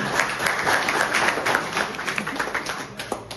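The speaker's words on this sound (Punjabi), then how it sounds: "ਜੋਰ ਤਾੜੀ ਮਾਰੋ" A crowd claps together in steady, dense applause at a National Youth Day event at an ITI in Nawanshahr, moderately loud and sustained for a few seconds before tapering slightly.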